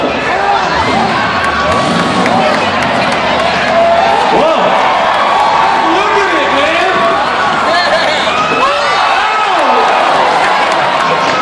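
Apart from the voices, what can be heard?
crowd cheering at truck event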